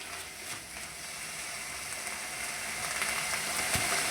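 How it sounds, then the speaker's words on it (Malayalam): Chicken curry with crushed ginger is stirred in a hot pan, giving a continuous close sizzle and crackle that builds slightly, with a few faint scraping ticks. "എല്ലാം കൂടി നന്നായിട്ട് ഇളക്കി കൊടുക്കാം."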